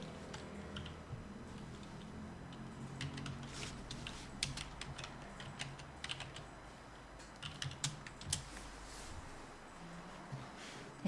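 Text is typed on a computer keyboard while working in Photoshop. Quiet, close, irregular keystrokes come in bursts, with sharper taps clustered toward the end.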